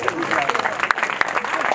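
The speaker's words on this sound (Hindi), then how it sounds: "एक बार तालियां, एक बार फिर" Applause at a Ram Navami festival held in an Arya Samaj temple hall in Agra after a girl's devotional bhajan performance, a dense patter of hands with a few sharper claps and voices mixed in.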